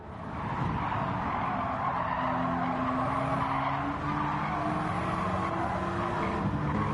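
A race car in a racing video game brakes late and skids, its tires squealing continuously over a droning engine for about seven seconds, steady and loud with no talk.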